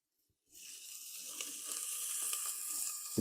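Green ground masala hitting hot refined oil for Konkani chicken cooked over a wood-fired chulha, a sudden loud, steady sizzle that starts after a brief silence and holds broadband hiss to the end.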